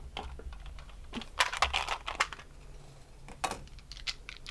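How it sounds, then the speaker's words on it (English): Several small Adventure Time dice clatter and tumble in quick bursts across a surface during a tarot reading, four dice rolled together, with sharp close clicks and a final rattle, no voices. "So we're going to roll the 8th set of dice for you now,"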